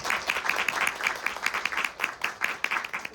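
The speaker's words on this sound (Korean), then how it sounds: "박수 한번 부탁드립니다" Cinema audience at a short-film screening Q&A applauding the directors: steady dense clapping from a small crowd, fairly close and even throughout, with no one speaking over it.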